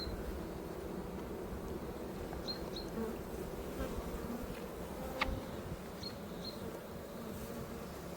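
Honeybees from a wild swarm drone steadily around an open hive during an apiary inspection, a dense continuous buzz with a few brief higher whines of individual bees passing close.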